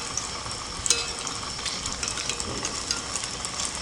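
Small balls of kalathappam batter, a Malabar snack, sizzle and crackle steadily in hot oil while more oil is spooned over them, giving a dense, close frying hiss with small pops.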